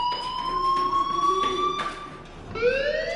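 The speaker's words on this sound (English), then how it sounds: "do you hear that fire alarm? That means you should be outside." Electronic fire alarm sounding inside a PS4 video game: a loud, steady, high-pitched tone that keeps ringing throughout, briefly sliding upward near the end, with no talking over it.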